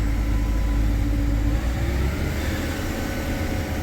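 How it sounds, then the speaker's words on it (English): Farm tractor engine under heavy load pulling a chisel plow at maximum depth while preparing ground for corn, a loud, steady low-pitched drone that holds its pitch throughout with no talking. "Go up to RPM. We're running this chisel plow to max depth. This tractor responds real well."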